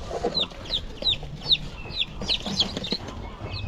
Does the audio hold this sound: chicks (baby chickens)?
yes